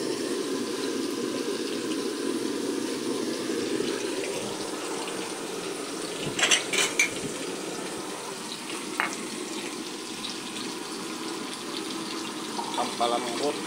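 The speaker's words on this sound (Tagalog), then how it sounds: "Lalagyan po natin ng kunting tubig." Water pours steadily into a cooking pot on the stove, a continuous close splashing rush with faint sizzling under it, lasting the whole stretch with a few brief clinks near the middle.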